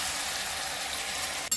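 Marinated chicken going into hot spiced oil on a gas flame gives a steady, dense frying sizzle, close and even, with a brief clatter near the end and no talking.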